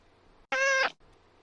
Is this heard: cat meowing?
yes